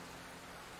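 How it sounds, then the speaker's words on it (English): Rain falls in a steady, even hiss of drops on surfaces, soft and continuous throughout the short stretch. "It started to rain a little more, and then a little more."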